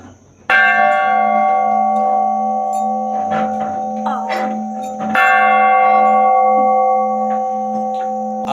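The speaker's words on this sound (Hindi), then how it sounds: "आप तो अंदाज़ा लगा सकते हैं कितना बड़ा घंटा है। तो इसे एक बार ध्वनि देते हैं।" A giant temple bell at Joshimath is struck twice, each loud, close strike blooming into a long, rich ringing tone that hangs and slowly fades.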